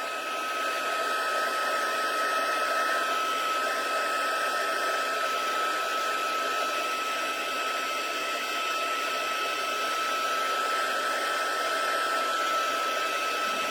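A heat tool blows continuously with a steady high whine and airy rush, close and loud, used to melt embossing powder in a papercraft session.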